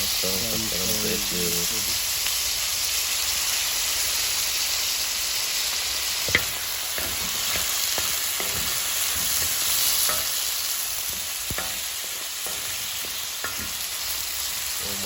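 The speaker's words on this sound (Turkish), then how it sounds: "Bu arada çulluklarımıza bakıyoruz. Pişiyor." Woodcock frying in butter in a pan, a steady close sizzle throughout with occasional stirring clinks and scrapes.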